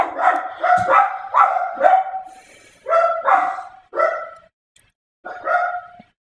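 A dog barking in short clustered bursts, several sharp woofs close by, then pauses before a final pair of barks.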